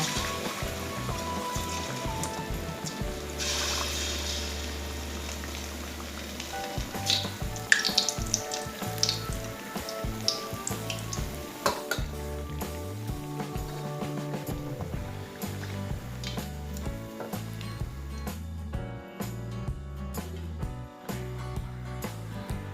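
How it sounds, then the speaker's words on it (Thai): Banana fritters sizzle and crackle while frying in hot oil, a steady busy hiss with scattered pops and clinks throughout, fairly close and alone without talk. "เดี๋ยวที่เหลือก็จะทอดต่อจนหมดนะคะ"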